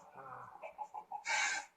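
A ringtone imitating a crow's call: several short harsh caws in a row, then a louder, longer burst at the end, close and clear against a quiet background.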